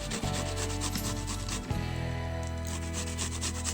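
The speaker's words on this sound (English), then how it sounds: "Just grate as much as you can without cutting your fingers." Cactus is rubbed against a hand grater for a homemade hair conditioner, making close, rhythmic rasping strokes with a brief pause near the start and another after a second and a half.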